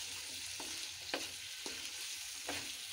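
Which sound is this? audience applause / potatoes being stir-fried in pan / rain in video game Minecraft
potatoes being stir-fried in pan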